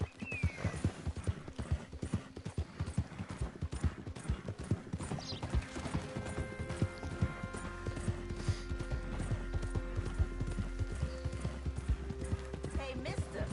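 Horse hooves clip-clop in a quick, steady rhythm while riding in a video game, loud and close, with a low drone rising in the second half and speech partly under it.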